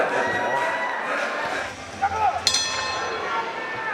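Bell ringing to end a round at a bare-knuckle fight, a bright clang with lingering ring heard over crowd noise and a commentator talking.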